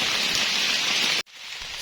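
Steady rain falling in a forest during wet-season mushroom foraging, a dense, loud hiss of drops that cuts off abruptly for an instant before resuming slightly quieter.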